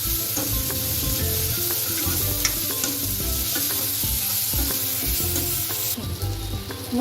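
Chopped onions salted and frying in a pan for a jackfruit curry, a dense continuous sizzle broken by frequent scraping stir strokes and clicks, close up with no talk.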